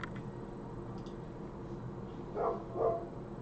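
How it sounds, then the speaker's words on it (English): Two short dog barks sound at a distance, muffled under steady room noise during a live online broadcast, with no talking over them. "That's the dogs."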